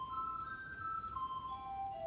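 A soft, pure flute-like pipe organ stop, somewhat recorder-like, plays a short slow melody alone, stepping down through a few sustained notes.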